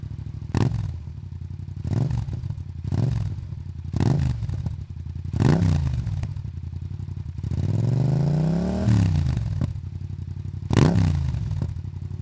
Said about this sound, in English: But how does it sound when recording a bike?